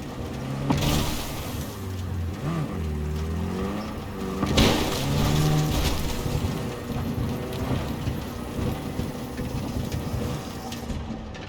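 A car in the video game Cyberpunk 2077 rolls along with a low engine hum, slows and settles to a stop, while steady rain and rumbling thunder fill the background.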